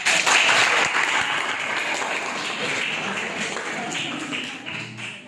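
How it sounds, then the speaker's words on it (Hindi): Audience applause following a song performed at a Vivekananda Jayanti program, a dense, steady wash of many hands clapping that holds strong for about five seconds before tapering slightly. "अरे एक बार जोरदार ताली"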